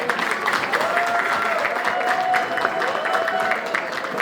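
Steady, loud applause from an audience at an award ceremony during a gratitude evening honoring good deeds, continuous clapping filling the room with a faint voice or tone running underneath.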